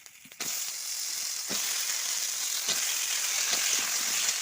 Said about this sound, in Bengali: আমি তেল দিয়ে একটু টকের জন্য পাঁচ ফোড়ন আর লঙ্কা দিয়ে দেবো দিয়ে একটু নেড়ে চেড়ে আনাজগুলো দিয়ে দেবো